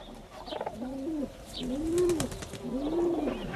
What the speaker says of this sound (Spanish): el macho de la paloma bravía aporta una ramita al nido